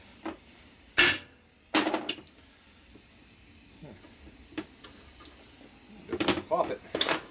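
An air tool works on a part of a 1946 Harley-Davidson knucklehead motor during a rebuild. It fires in a few short, loud hissing blasts with quiet gaps between them, and someone talks in between.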